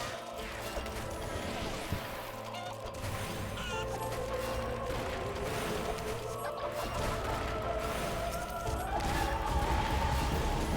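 Chicken enemies cluck in the Final Fantasy XIV dungeon Palace of the Dead, mixed into busy game effects, clanks and background music, with no speech.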